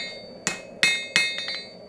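A hammer striking a steel chef knife blade being hand-forged, three loud ringing metallic blows followed by a few lighter taps, close and alone.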